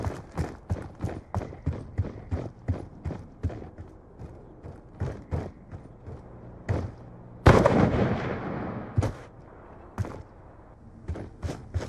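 Video game gunshots: a long run of sharp, evenly spaced single shots, loud and close, broken by one heavier blast, with little talk.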